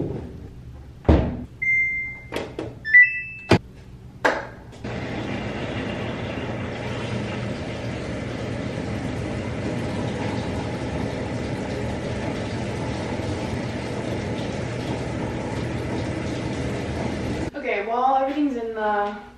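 A washing machine runs with a load of clothes being cleaned for resale at a vintage market. A few knocks and clicks come first, then a steady, loud, even drone holds for about twelve seconds before a voice speaks at the end.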